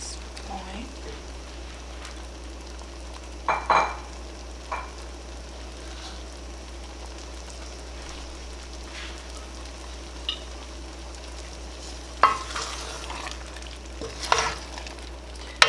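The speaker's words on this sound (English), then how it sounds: "And then gently stir it together." Fresh mackerel is gently stirred into a tomato and vegetable stew cooked the Ghanaian way: a low, quiet sizzle runs underneath while occasional soft scrapes and clinks of the spoon break through.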